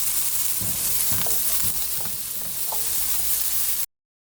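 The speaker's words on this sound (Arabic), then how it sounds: "هنزل بالفراخ بعد كده واقلبها برده تقلبتين" Leftover cooked chicken stir-fries with onions in a hot pan, a continuous sizzling hiss with soft stirring scrapes and tosses, ending abruptly.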